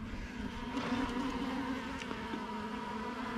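Honeybees buzz while working pollen, a faint, close droning hum with wavering pitch as individual insects pass, over quiet outdoor background.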